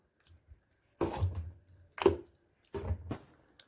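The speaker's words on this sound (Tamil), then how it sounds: "தண்ணி ஊற்றிட்டு இந்த மாதிரி நல்லா கலந்து விட்டுருங்க" Three separate wet, squelching stirs, water being mixed into ghee in short strokes with brief pauses between them, close and fairly soft.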